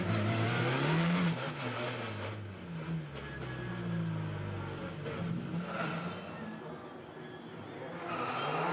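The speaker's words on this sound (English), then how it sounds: "Cars forming up for the first race in Villarreal" WTCR touring race cars idle and rev while forming up on the grid for the first race of the 2019 Portugal street-circuit weekend, engines droning continuously with rising and falling pitch.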